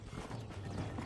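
Horse hooves in Red Dead Redemption as the rider mounts a horse, a brief run of soft clip-clop steps with creaking tack, close and steady.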